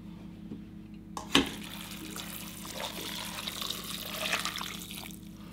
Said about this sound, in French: Et ensuite, on rajoute le bouillon de légumes.